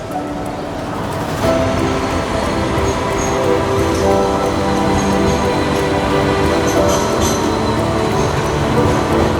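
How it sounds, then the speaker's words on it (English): A tram rolls along a Sydney city street with a steady, loud rumble, layered metallic whining and faint wheel squeal, close by and sustained throughout with no talking. "Man, I love the trams."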